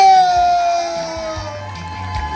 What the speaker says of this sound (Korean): 여러분 축하 박수 소리 질러